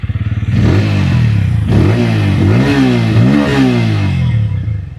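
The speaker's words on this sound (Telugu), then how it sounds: "ముందు ఒకసారి ఎగ్జాస్ట్ నోట్ చూద్దాం." A Bajaj Pulsar N160 motorcycle's single-cylinder engine idles close by, then revs up and down in several steady, loud, throaty exhaust blips with no talking.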